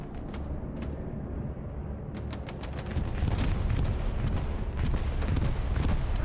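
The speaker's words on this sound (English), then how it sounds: "Bombing run, southern area." Bombing run in a competitive match on the Mortain map of a video game: a dense barrage of explosions and booms, loud and continuous, with sharp blasts repeating over a rumbling roar.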